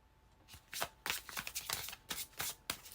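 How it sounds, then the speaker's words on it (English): Tarot cards shuffled in a steady series of crisp riffling bursts, close and fairly loud, with no voices. "Last shuffle."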